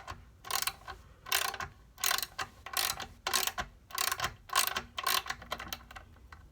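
A hand ratchet loosens and backs out the 5/16 bolts on a Tailgator generator, giving a steady train of rapid clicking bursts at close range with brief pauses between strokes, no talking.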